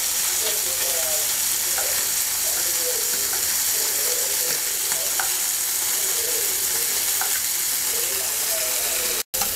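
Small tatkini fish, seasoned with turmeric and salt, fry in hot oil in a wok, giving a steady, close, loud sizzle with faint stirring clinks throughout.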